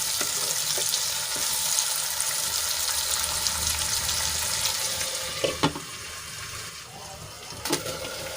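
Tomatoes and onions cook in a covered pan with a steady soft sizzle and bubbling, and a couple of brief clinks come near the end.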